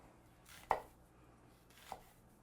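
A kitchen knife makes vertical cuts into an onion: two soft, separate chops about a second apart, quiet and close, with no talking.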